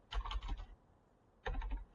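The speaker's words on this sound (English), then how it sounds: "Now I'm typing" Numbers typed on a computer keyboard while filling an Excel VBA user form: two quick bursts of close, soft key clicks separated by a short pause.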